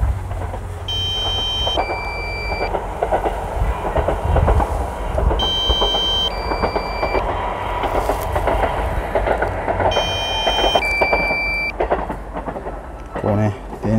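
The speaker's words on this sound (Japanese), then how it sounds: "こうね、電車が入ってくる" An electric train pulls into a station, its broad low rumble and rolling wheel noise filling the scene, while high electronic chime tones repeat three times over the approach.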